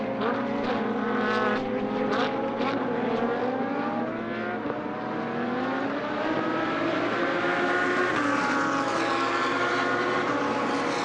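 GT2 race cars accelerate down the straight at the Paul Ricard circuit during a 2021 European Series race, with several engines overlapping in loud, continuous rising whines that sweep upward in pitch as they pass.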